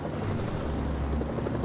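A helicopter in the video game Mercenaries: Playground of Destruction gives a loud, steady rotor thrum and engine roar throughout, close and continuous with no speech over it.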